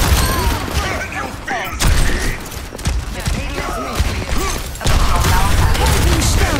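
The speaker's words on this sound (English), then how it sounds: "Rocket barrage" Pharah's rocket barrage in Overwatch 2 unleashes a dense, continuous volley of whooshing rockets and booming blasts, loud and chaotic, with excited voices talking over the game.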